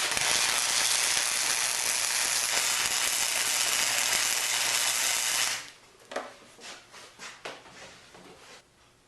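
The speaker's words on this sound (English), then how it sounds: "These little 110 volt buzz boxes, wire feed, not the prettiest weld" A 110 volt wire-feed welder lays a bead on a backyard firepit build, giving a loud, dense crackling hiss that runs steadily for about five seconds. It stops abruptly and is followed by a few nearby metallic knocks and scrapes.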